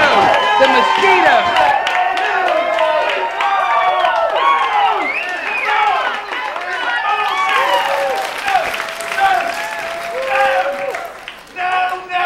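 Film crowd greeting a winner at a competition, with loud sustained applause, clapping and whooping cheers under an announcer's voice and shouting.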